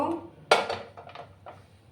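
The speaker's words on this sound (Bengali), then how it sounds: "একটা প্যান আমি বসিয়ে দেব।" A pan lands on a gas stove with a single sharp metallic clank, then gives a short ringing scrape and a softer knock, close and moderately loud, with a quiet hum underneath.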